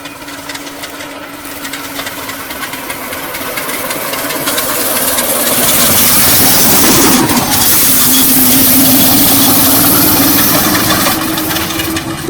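A homemade record-setting vehicle's small engine revs steadily on a street test drive, its whine rising in pitch and loudness as it speeds up and holds a buzzing drone close by.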